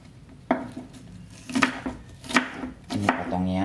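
Knife chopping an onion on a cutting board, a handful of sharp, uneven chops with short gaps between them, close and fairly loud, with no talking.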